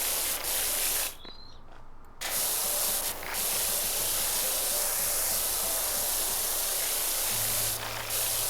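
A pressure washer spraying in the video game PowerWash Simulator, a loud continuous hiss that cuts out briefly and resumes, close and steady, with no talk.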